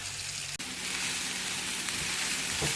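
Onions and peppers sizzle steadily in a hot pan as they char for a Moroccan chicken and rice dish, a constant close hiss with a brief dip and faint crackles, no talking.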